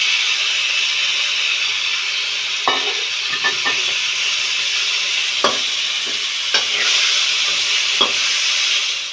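Tomatoes frying in a pan with garlic while making macaroni: a steady sizzling hiss, with several brief stirring scrapes and clicks spaced through it, close by and with no talk.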